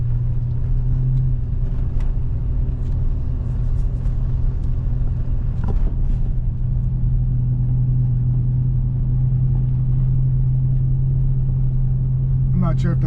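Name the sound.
Toyota Prado 90 Land Cruiser engine rumble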